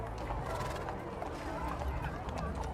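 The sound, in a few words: horses hooves clip-clopping in a stock show parade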